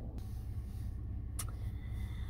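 A car engine idles steadily with the air conditioning running, a low continuous hum and rumble filling the cabin, with a brief faint click partway through.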